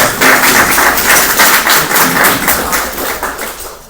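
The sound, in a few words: luncheon audience applause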